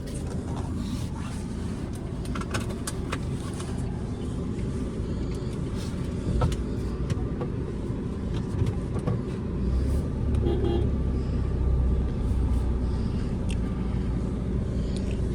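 Cabin view of a 2016 Mahindra XUV500 W6 on the road, a constant low rumble of engine and tyres with small knocks and rattles, steady throughout and without talk.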